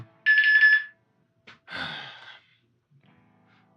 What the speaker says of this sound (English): My blood glucose is probably at 130 right now, which is why I have this alarm set.